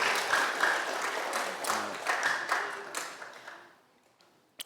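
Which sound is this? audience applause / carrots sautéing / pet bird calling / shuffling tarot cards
audience applause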